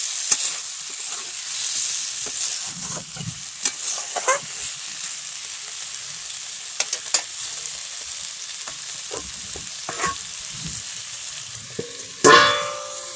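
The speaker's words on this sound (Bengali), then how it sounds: "ভালো করে কষিয়ে নেড়ে চেড়ে কষে নেব।" Fish roe stir-fried in a hot pan gives a steady, close sizzle with scattered scraping and clinking of a stirring utensil throughout, and a louder clatter near the end.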